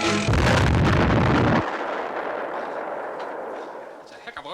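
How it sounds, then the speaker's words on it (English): A headquarters blowing up in a radio drama, a loud, sudden roaring blast that cuts off sharply and leaves a long rumbling decay, with faint voices near the end. "we're going to hear the explosion"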